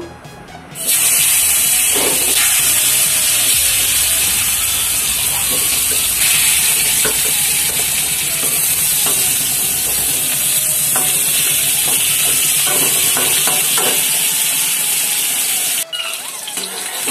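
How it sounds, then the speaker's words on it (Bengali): Vegetables for a side dish to khichuri fry in hot oil, giving a loud, constant hiss and sizzle broken by scraping stirs and clinks, until the sizzle suddenly dips near the end. "ভেজে নেব।"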